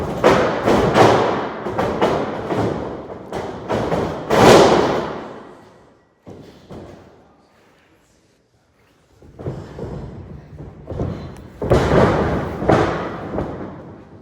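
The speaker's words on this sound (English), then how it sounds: "if you think when they hit the mat, it's going to get loud" Wrestlers thudding onto the mat during light sparring, a run of heavy broadband thumps and scuffles in a gym, loud and close, with a quiet pause in the middle before the impacts resume.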